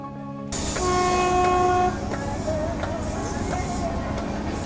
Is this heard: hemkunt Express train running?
yes